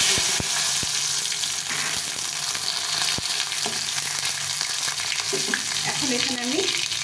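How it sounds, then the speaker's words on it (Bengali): Dried red chillies, bay leaves and cumin seeds sputtering in hot oil for a tempering, a loud continuous sizzle with scattered sharp pops and crackles, close up and without talking. "এখন আমি এর মধ্যে ফোড়ন দিয়ে দেবো এখানে শুকনো লঙ্কা নিয়েছি দুটো তেজপাতা আর জিরে"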